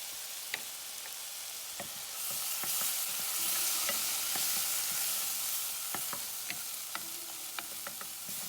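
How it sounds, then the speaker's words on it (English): Paprika sizzles in a hot pan for Spanish brothy rice with shrimp. A utensil stirs it in irregular taps and scrapes over a soft frying hiss that swells briefly midway. The sound is fairly quiet and there is no talk. "Stir it for a little bit."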